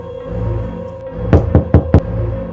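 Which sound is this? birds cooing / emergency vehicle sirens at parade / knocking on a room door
knocking on a room door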